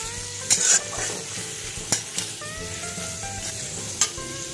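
Chicken egg fried rice fries in a pan with a continuous sizzle, broken by a few sharp, close spatula scrapes and clicks against the metal at irregular intervals.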